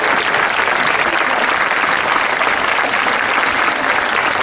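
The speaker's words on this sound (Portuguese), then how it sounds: "Para continuar a bater palmas" A concert audience in Estoril claps in a dense, loud, steady wash of applause from a large crowd, continuous throughout with no voices standing out.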